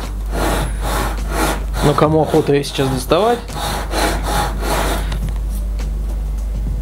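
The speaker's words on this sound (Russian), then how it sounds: "Нам понадобится ножовка, чтобы сделать более-менее ровный рез вдоль." A hand saw cuts lengthwise through wood in steady back-and-forth rasping strokes, close and continuous, while someone talks over it.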